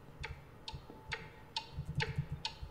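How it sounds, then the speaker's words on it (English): Clock ticking in the video game Bendy and the Ink Machine, about six sharp, evenly spaced ticks over a faint low background. "Quite the clock."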